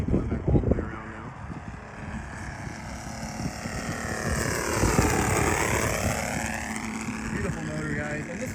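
A Saito FG90R3 engine powers a 126-inch Westland Lysander RC model airplane, droning steadily with a pitch that sweeps as it passes and circles overhead. A brief voice is heard near the start.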